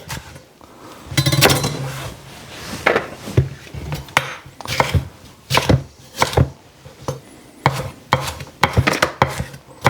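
A knife cutting through peppers on a wooden board for green tomato soup, with a string of crisp, irregular chops and slicing strokes close by, some rapid and clustered, others spaced apart.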